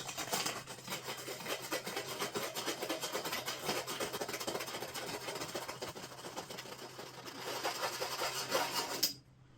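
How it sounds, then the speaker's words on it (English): Sandpaper scrubbed inside a metal awning tube, making a continuous, rhythmic raspy rubbing up close that keeps going for several seconds and then stops abruptly. "I'll use a little bit of sandpaper just to make sure it's smooth inside"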